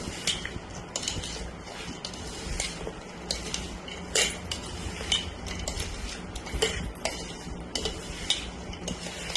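A spoon stirs and mixes dry spice mix for sweet mango pickle in a metal vessel, giving irregular close clinks and scrapes of metal with soft gritty rustling between them.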